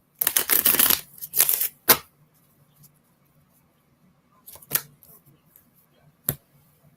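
A deck of oracle cards being shuffled by hand at close range: a dense riffle of rapid flicks lasting about two seconds, then quiet with a few isolated card snaps and taps.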